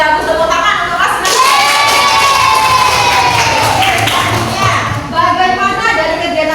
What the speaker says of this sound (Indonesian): tepuk tangan untuk Asna.